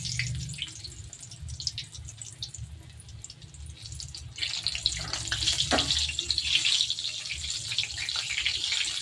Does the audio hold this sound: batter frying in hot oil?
yes